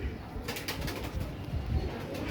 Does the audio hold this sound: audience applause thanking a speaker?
no